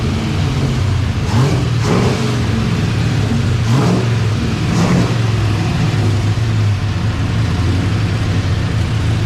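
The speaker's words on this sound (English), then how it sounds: "The motor is super clackety right now. This motor is just loud." A Cadillac CTS-V engine swapped into a Volvo 240, running loud and clattery with a leaking coolant neck, a continuous close idle and rev drone throughout.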